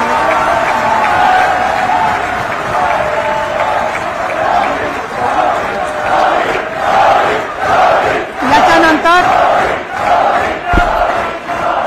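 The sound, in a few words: audience applauding and cheering to welcome the team captain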